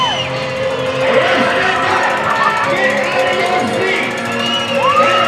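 An ice hockey arena crowd at a junior game between the New Mexico Ice Wolves and Odessa Jackalopes roars with whoops, yells and cheers, a loud, continuous swell of many voices.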